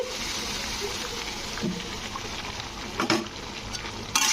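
Boiled peas and potatoes go into mutton fat already browning in a pan, giving a steady close sizzle and hiss with a few soft clatters and stirring knocks.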